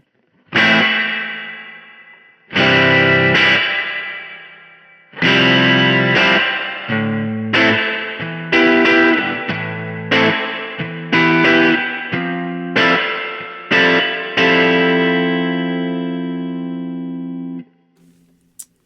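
Electric guitar strummed in bursts through a Keeley Verb O' Trem pedal's spring reverb, spring tightness varied, notes ringing into a springy, metallic tail; the closing chord hangs and fades out.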